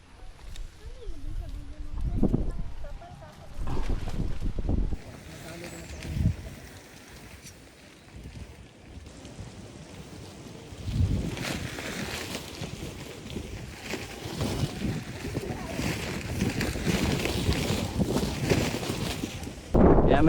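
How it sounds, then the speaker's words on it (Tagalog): Steady roar of strong wind at a camp buffeting the microphone, rising and falling in gusts, with occasional voices mixed in. "Lakas ang hangin."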